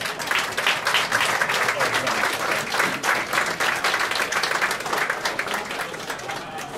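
A crowd at a farewell ceremony for a McDonnell Douglas MD-80 airliner breaks into dense, steady applause, many hands clapping close by for several seconds with voices mixed in.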